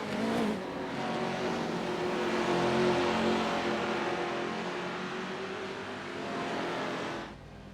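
A Porsche engine idles in the iRacing sim during a street-truck series race on the Chicago street circuit, giving a loud, steady, continuous drone that holds at an even pitch for several seconds before cutting off abruptly.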